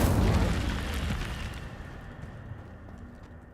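Incendio fire spell cast in the Hogwarts Legacy video game, a loud whooshing burst of flame that opens strongly and then fades into a long roaring tail, with no talking.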